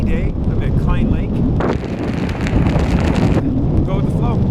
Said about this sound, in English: Got a windy day up at Klein Lake.